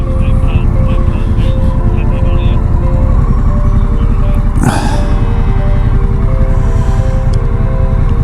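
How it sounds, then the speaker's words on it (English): Cars passing on a narrow road in the Outer Hebrides, heard from a pulled-over motorcycle: a steady loud engine and road drone with a brief swelling whoosh near the middle, under constant wind noise. "Let these cars past."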